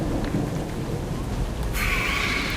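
A thunder and rain storm in the Harry Potter: Magic Awakened video game, with steady rain hiss, a low thunder rumble and a sharp bright burst near the end.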